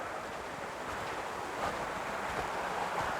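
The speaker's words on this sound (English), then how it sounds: "where the water cascades over the rocks" Water cascades over shoreline rocks in small falls, a steady, broadband rushing wash with slight surges, mixed with wind noise on the microphone and no voices.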